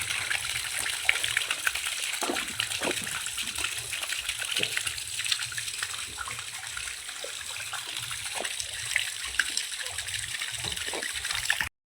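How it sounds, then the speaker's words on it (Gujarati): Water runs steadily from a tap, a continuous soft splashing and gushing at moderate distance. "પાણી ચાલુ કરી દીધું છે"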